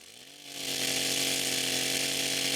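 A chainsaw cutting the branches of a fallen tree at a cottage in cold April weather revs up to a sustained high-pitched buzzing whine and holds steady at moderate distance, with no voices.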